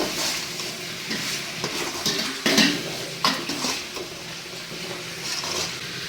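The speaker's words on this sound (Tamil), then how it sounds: "கொஞ்சமாக கருவேப்பிலை சேர்த்துக்கிறேங்க சேர்த்துட்டு நல்லா மிக்ஸ் பண்ணிக்கோங்க" Vegetables with curry leaves stirred in a pan, a soft continuous sizzle broken by irregular scrapes and clinks of the spoon against the metal, close and fairly quiet.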